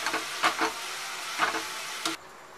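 Sweet Eid vermicelli (kimami sewai) cooks in a pan, giving a soft steady sizzle with a few scraping stirs before the sound cuts off as the pan is covered; no talking.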